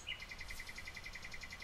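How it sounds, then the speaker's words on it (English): Birdsong played during a live stream in place of music: a steady run of repeated high chirps, faint and continuous across the whole stretch, with no talking. "We're listening to birds right now because we can't have music"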